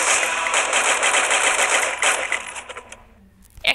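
Rapid automatic gunfire from the Free Fire mobile battle-royale game on the Bermuda map, a dense continuous burst that thins into a few scattered shots near the end, loud and close with no talking over it.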